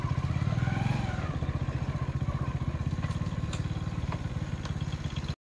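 Motorcycle engine idling nearby at a bike parking area by a waterfall, a steady rapid chugging throb with faint clatter, ending abruptly.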